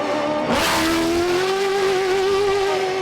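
A pickup truck engine drones at a steady, rising pitch after a brief burst of gritty noise as it drives fast on gravel, loud and close, with no voices.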